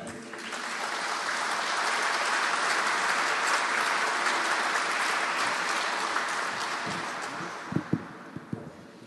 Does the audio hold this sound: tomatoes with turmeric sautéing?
no